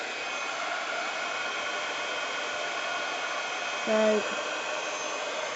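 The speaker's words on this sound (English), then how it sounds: "just heat it up and you can see that colour, embossing powder changing" A heat tool blasts a steady, loud airy whoosh throughout while white embossing powder melts on a red Christmas card, with a brief word spoken near the end.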